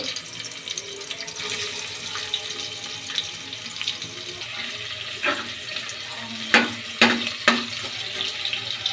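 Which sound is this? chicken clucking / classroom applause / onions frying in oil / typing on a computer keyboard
onions frying in oil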